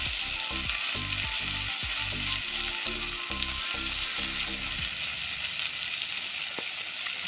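Fish fries in oil in a hot wok, giving a loud, steady crackling sizzle throughout, with a rhythmic scraping of stirring or turning in the first half, and no talking.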